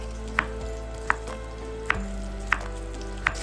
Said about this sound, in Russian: Обжариваем 150 грамм бекона.